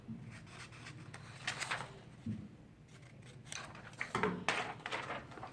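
Scissors snip through a piece of copy paper at close range, cutting a measuring strip for a Redcat RC car pinion gear swap. Several short, dry cuts and rustles come at an uneven pace.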